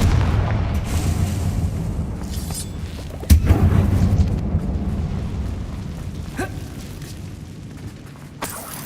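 Confringo fire spell blasting in the Hogwarts Legacy game: a loud, booming explosion strikes mid-clip over a rumbling low background of game sound, with smaller bursts trailing off afterward.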